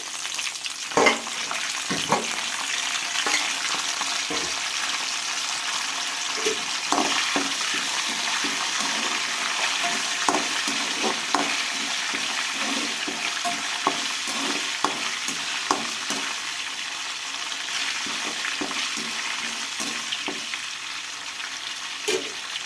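Green chilies and curry leaves fry in a pan of hot oil, giving a steady, loud sizzle that holds through the whole stretch, with occasional stirring clicks and pops and no talking.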